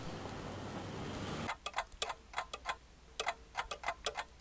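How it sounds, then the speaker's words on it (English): Cuckoo clocks ticking in the Gabriel Knight video game: after a burst of broad noise, a series of crisp, evenly spaced ticks and tocks rings out clearly on its own, close and moderately loud. "Cuckoo clocks."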